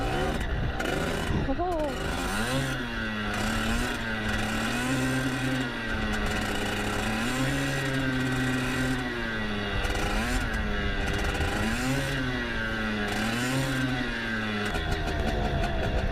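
A motorcycle ridden by a first-time rider, its engine revving in gentle, repeated rises and falls of pitch as the throttle is eased open and closed, heard steadily and close throughout, with a voice talking over it at times.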